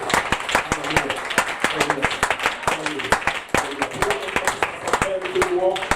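A church congregation applauds to acclaim the Lord, with rapid, steady clapping from many hands throughout while a preacher's voice carries over it.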